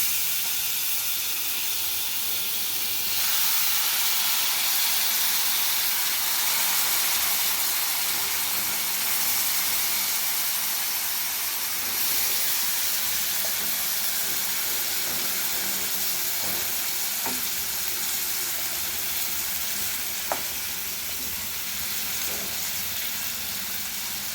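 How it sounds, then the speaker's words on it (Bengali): Mixed vegetables going into hot frying spices in a pan for a prawn curry, giving a loud, steady close hiss and sizzle that continues throughout, with a few faint utensil taps. "এখন এই সবজিটা ছেড়ে দেবো"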